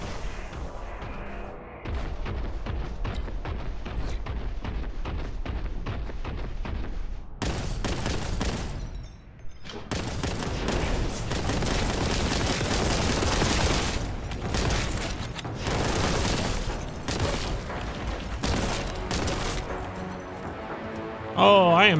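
Dense, sustained gunfire from Warhammer 40,000: Boltgun, loud rapid bursts and heavy booming shots pounding almost continuously, with a brief lull partway through and a player talking over it.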